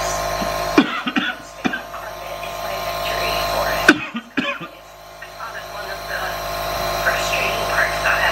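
A person coughs a few times in short fits after inhaling salty water, close by, over a steady buzzing hum indoors.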